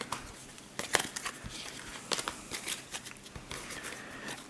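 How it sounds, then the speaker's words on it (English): A deck of playing cards is shuffled by hand at a tabletop card game, giving quiet, crisp riffling and flicking bursts in an uneven rhythm, close and alone. "Am I not shuffling correctly?"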